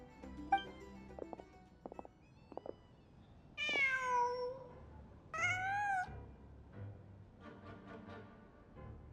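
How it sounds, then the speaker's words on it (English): A cat in the video game Genshin Impact gives two clear, drawn-out meows in the middle, after some soft clicks and thumps, followed by a fainter third meow. "Just a cat."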